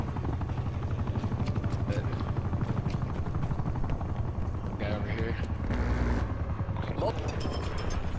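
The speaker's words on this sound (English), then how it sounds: "Enemy spy plane inbound." An enemy spy plane flying over in Call of Duty Cold War, a dense continuous aircraft drone mixed with game gunfire and effects, loud and unbroken for the whole stretch.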